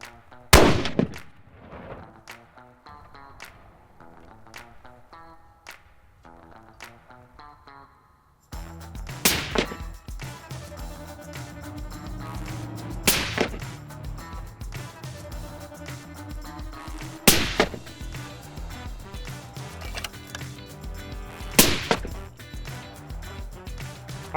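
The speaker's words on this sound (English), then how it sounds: "we only had to shoot the unsuppressed gun once, but we shot 2 shots for suppressed and then suppressed with the brake" Gunshots ring out during a suppressor test, first a series of sharp cracks in a quiet setting, then several loud, spaced blasts over a constant background of noise, each with a short decaying echo.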